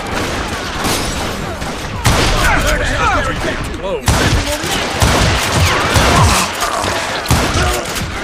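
Dense, loud gunfire from the Western shooter video game Call of Juarez Gunslinger, with rapid overlapping shots, booms and thuds filling the whole stretch while game characters shout over the fighting.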